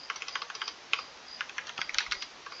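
Close, quiet clicking of fingers typing on a computer keyboard while writing C++ code, keystrokes coming in quick uneven runs with no talking.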